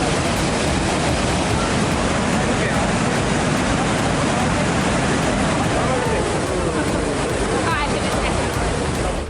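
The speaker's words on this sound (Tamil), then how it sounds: "பைக்காரா நீர்வீழ்ச்சியில் தண்ணீர் ஆர்ப்பரித்து செல்கிறது" Pykara waterfall roars with overflow water, a loud, dense, unbroken rush of falling water filling the scene from start to finish.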